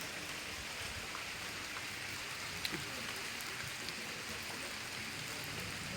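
Rain falls on a village in a faint, even hiss, with a few soft drops standing out now and then.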